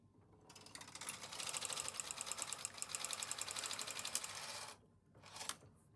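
A Knitmaster Mod 150 knitting machine works the second row of an intarsia piece, its carriage clattering in a fast, even mechanical ratchet that runs steadily for several seconds, then stops with a short final burst.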